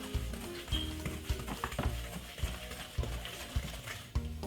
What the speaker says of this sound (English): simple cream it together like this until it gets really fluffy